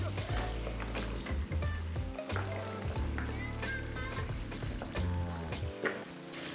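Chopped radish goes into a pan of cooking spinach for a Punjabi radish-spinach curry, bringing a dense sizzle and frying crackle with clattering stir strokes, close and continuous, with no voices.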